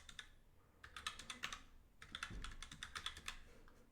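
Keys on a computer keyboard are typed in two quick bursts while a password is entered, with crisp, close clicks and a short pause between bursts and no talking.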